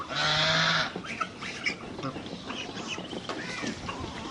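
Domestic geese, a small flock of goslings and young birds, feeding, with a loud honk at the start followed by softer scattered calls and pecking noises while someone talks nearby.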